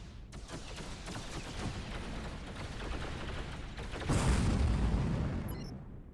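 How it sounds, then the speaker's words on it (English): An enemy Xenon ship opens fire in the space game X3: Terran Conflict, a continuous barrage of rumbling shots and booms that swells louder partway through before easing off. "Oh, someone's shooting at me."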